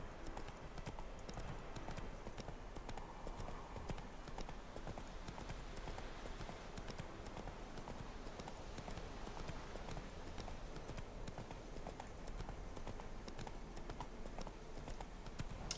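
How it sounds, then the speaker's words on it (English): Horse hooves clip-clop steadily in the video game Witcher 3, a quiet continuous rhythmic trot heard under faint ambient game sound, with no voices. "if Roach is going to conveniently be there, I may as well hop on his back"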